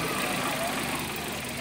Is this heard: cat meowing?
no